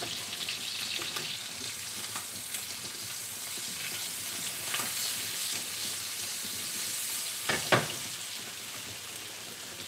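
Butter sizzling steadily in a frying pan over moderate heat, a continuous close hiss and crackle with one brief louder clatter near the end, no voices.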